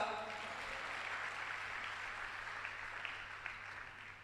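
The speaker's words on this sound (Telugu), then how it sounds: "చప్పట్లు కొట్టగలవా" A church congregation claps together on request during a sermon, a steady wash of many hands sustained for about four seconds, fairly distant and even in level.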